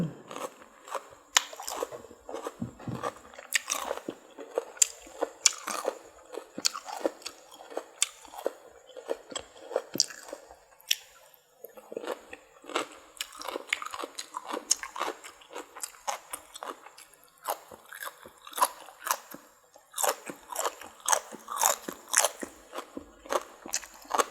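Close, loud crunchy biting and chewing of spicy Thai cucumber salad eaten with bitter gourd and pork sausage, a steady run of wet crisp crunches and smacks with no talking.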